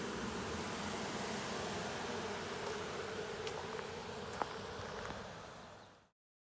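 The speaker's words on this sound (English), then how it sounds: "Crazy amounts of bees." A dense, steady buzzing of a swarm of honeybees bearding on a hive fills the air continuously, close and even, with a few brief higher insect whines passing through.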